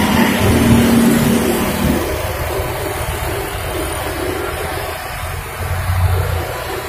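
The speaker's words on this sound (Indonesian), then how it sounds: "banyak motor-motor yang berlalu lalang dan mobil pribadi" Motorbikes and private cars pass along a road with a steady rumble of engines, nearby and fairly loud, with one vehicle's note swelling early and another approaching near the end.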